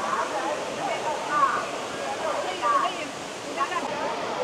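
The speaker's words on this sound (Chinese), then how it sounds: "没有参照就不知道这个瀑布有多伟岸啊！" The Three-Step Falls on Mount Lushan pour with a steady, full roar of falling water, continuous and fairly close, while voices talk faintly over it.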